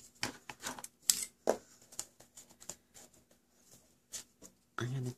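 Scissors trim cardstock for a handmade birthday card: a string of close, crisp snips and light paper clicks in irregular bursts with short pauses between cuts, ending in a louder rustle.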